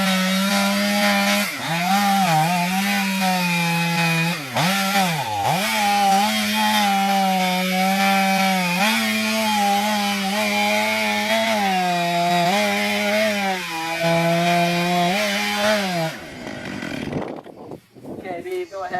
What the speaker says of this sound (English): I'm gonna go right in, bury the saw nice and far in